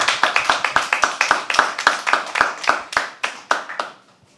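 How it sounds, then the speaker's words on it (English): An audience at a live poetry open mic claps steadily as a performer walks to the stage, a brisk, close, loud run of sharp individual claps that thins out and fades near the end. "Keep clapping till she comes on stage"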